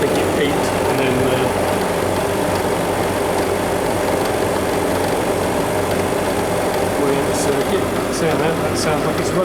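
A Prestcold 1/2HP refrigeration compressor runs with a steady, loud, continuous mechanical hum and drone that holds unchanged throughout.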